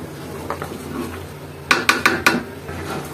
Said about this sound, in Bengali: আচারটাকে এভাবে একটু ঘন ঘন করে নেড়ে দিতে হবে।